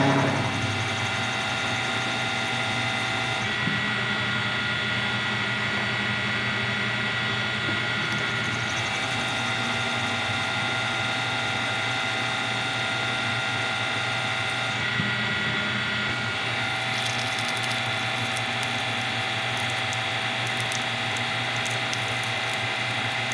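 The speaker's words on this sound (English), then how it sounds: "I slowed the mill down a little bit, tightened everything up, and hope this works." A milling machine in a workshop running at a slowed speed while cutting, a loud steady mechanical whine and rattle with faint gear-like ticking, continuous throughout and without talk.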